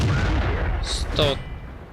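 Two quick, sharp tank-gun shots crack out in the World of Tanks video game over a constant low engine rumble and battle noise, with a voice talking alongside.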